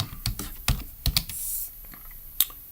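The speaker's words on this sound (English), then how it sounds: "Let me type this in." Fingers type on a computer keyboard in quick bursts of close, clicky keystrokes with brief pauses between them, in a quiet room.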